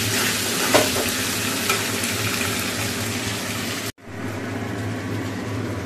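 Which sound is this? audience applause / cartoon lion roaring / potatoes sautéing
potatoes sautéing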